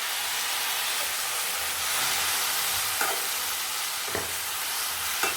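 Jaggery water hits a hot pan of roasted banana barfi mixture with a steady, loud broadband hiss that holds for several seconds, broken by a few faint clicks.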